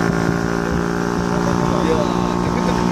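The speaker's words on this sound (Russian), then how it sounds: "Так это реально какой-то мотоцикл." A small motorized carriage runs with a buzzing, motorcycle-like engine drone that stays steady and close, with people talking over it.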